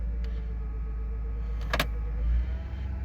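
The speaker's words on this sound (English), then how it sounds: "I can actually hear the RPMs going up as I do that" A car with a failing transmission runs steadily, its engine drone low and constant, with a brief sharp mechanical click or clunk near the middle and a slight swell in revs toward the end; no voices.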